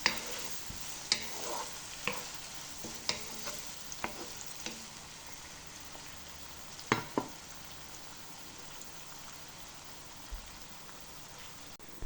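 Onions with a pinch of salt sautéing in a pan, a faint, soft crackle with scattered light taps and clinks of a spatula, quiet and without talk.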